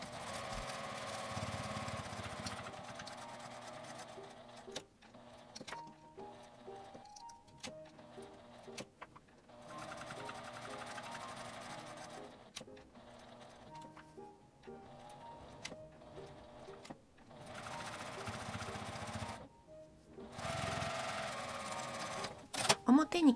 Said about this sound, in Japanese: アイロン線は伸ばして1センチの縫い代で周りを縫います。